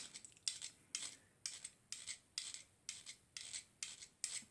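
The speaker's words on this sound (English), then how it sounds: "Now we've got them filed up." Metal file rasping across the cast ends of a Dinky 155 Ford Anglia die-cast model during restoration: nine crisp, evenly spaced strokes, close and fairly quiet, with no talk.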